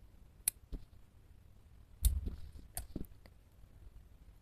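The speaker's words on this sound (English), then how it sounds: "let's cut the yarn" Scissors snip through crochet yarn: a few sharp, quiet clicks and one firmer close cut, near and alone in a still room.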